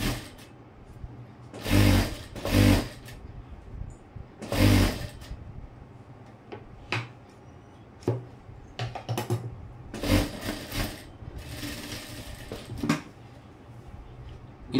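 A sewing machine stitching a blouse runs in short separate bursts, several quick whirring runs of a second or so each with pauses and small clicks between them, close and moderately loud.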